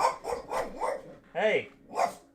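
A pet dog named Peach barks several times in quick succession indoors, loud and close. The barks are sharp and yappy, and a person shouts at the dog over them.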